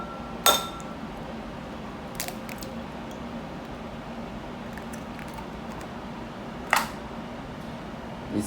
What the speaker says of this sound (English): I'm going to crack the egg.